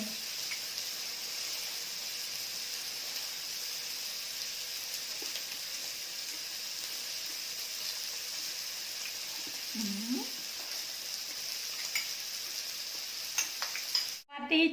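Steady sizzling of pork frying on a hot Thai moo kratha grill pan, a continuous crackling hiss throughout, with a brief clatter near the end.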